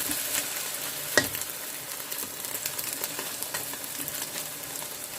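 Taiwanese oyster omelette fries in a pan with a steady, crackling sizzle up close. One sharp clack of a utensil comes early, with lighter scraping afterward and no speech.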